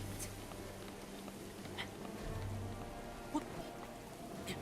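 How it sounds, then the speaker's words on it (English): Steady rain falling in The Legend of Zelda: Breath of the Wild, a soft even patter that holds at moderate level throughout, with one brief sharper tap near the end and no voices. "Oh, it's raining, of course."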